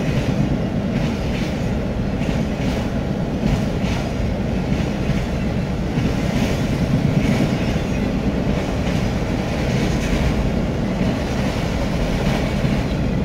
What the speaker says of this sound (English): That sound of the train rolling through.